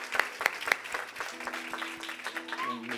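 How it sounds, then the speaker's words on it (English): Church congregation applauding in a worship service, moderate clapping mixed with murmuring voices and a few louder bursts, with talk over it. "Applause to the Lord for her life."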